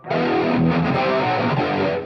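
A loud, heavily distorted electric guitar, a Line 6 JTV-89F Variax through a Helix, plays a thick, gritty chord passage that sustains steadily throughout with no voices.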